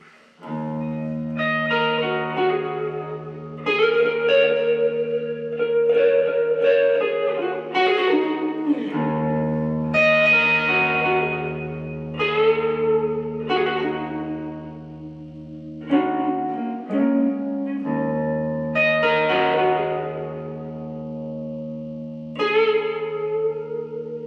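Electric guitar through a Yamaha THR5 amp with reverb, chords and single notes ringing out with long, washy tails, played steadily with pauses between phrases.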